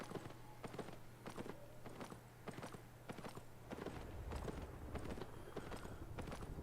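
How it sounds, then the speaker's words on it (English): A horse in the video game Albion Online trots along with steady, evenly spaced hoof clip-clops over a constant background hum, moderately loud and continuous with no talking. "And this horse ain't the fastest horse in the world."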